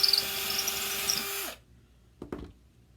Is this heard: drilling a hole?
yes